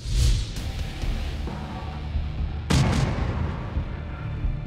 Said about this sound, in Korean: (2010년) 연평도 포격 도발.